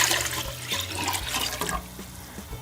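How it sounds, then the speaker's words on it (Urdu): One litre of water being poured into a pot for vegetable soup makes a steady splashing, running stream in a kitchen. It holds up close and loud, then eases a little toward the end. "ہم دیکھیں یہاں 1 لیٹر پانی شامل کریں گے"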